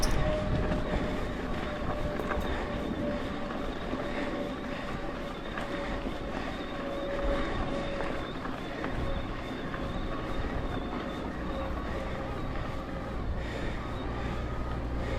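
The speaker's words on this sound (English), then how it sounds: "Now I'd like you to hear the noise of the motor." A Fazua Ride 60 motor on a Transition Relay lightweight enduro e-bike, recorded while riding, gives a steady whirring hum mixed with rolling and wind rumble. The noise is continuous and fairly loud for about fifteen seconds, with no speech.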